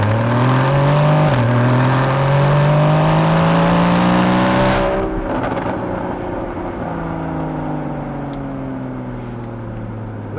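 A Porsche Cayman 981 GTS with sports exhaust on accelerates hard, its engine note climbing steadily and loud through one gear before a shift, then pulling again at a lower, slightly quieter pitch.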